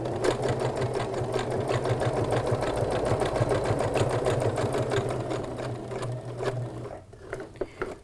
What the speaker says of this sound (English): So I'm going to lower the needle where I want it, and I'm going to start stitching